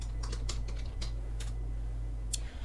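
Fingers type on a computer keyboard in quick, uneven bursts of clicks, close and fairly quiet, over a steady low electrical hum, with no one speaking.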